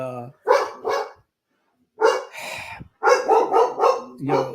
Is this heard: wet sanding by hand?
no